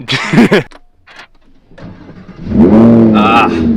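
A Lamborghini V10 engine cranks, catches and revs loudly, its pitch climbing and falling in a rising roar after brief talking at the start.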